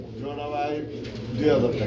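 Pigeons, including yellow-coloured ones, coo in low, throaty murmurs beneath close conversation, with a steady hum of birds nearby at a pigeon sale.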